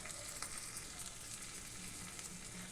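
Ginger, garlic and onion paste frying over browned chopped onion in a pan for a prawn malai curry, giving a soft, even, continuous sizzle with faint stirring, quiet and steady.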